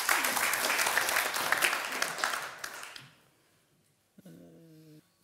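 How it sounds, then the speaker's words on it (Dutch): An audience at a talk on pesticides in agriculture claps warmly in a full, steady burst for about three seconds, then fades into near silence broken by a short hum-like tone. "graag een hartelijk applaus voor Daniel Bon"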